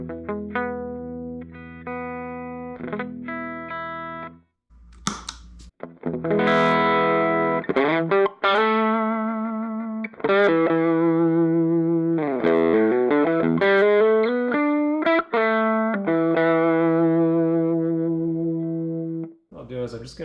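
An electric guitar runs through a Zenkudo overdrive pedal for a Dumble-style tone, first playing clean notes, then crunchy overdriven chords and lead phrases, close and prominent.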